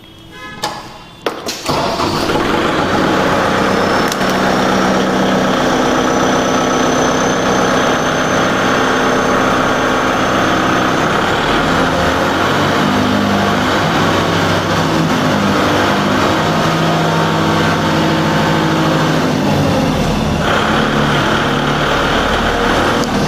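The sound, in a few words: Kubota MU4501 4WD tractor engine running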